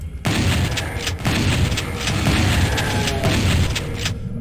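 Rocket explosions in Doom 64, a dense, loud, booming roar of blasts with repeated heavy impacts rolling continuously without pause.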